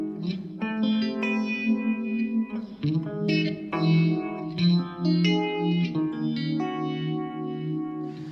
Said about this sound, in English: It's got more like a Leslie rotary kind of sound as well